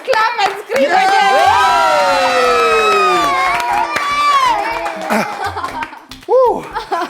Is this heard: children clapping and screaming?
yes